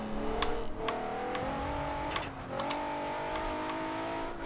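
A 2014 Maserati Ghibli S engine in Forza Horizon 2 revs hard through the gears, its note climbing steadily, dropping at shifts and rising again, loud and close and with no talk over it.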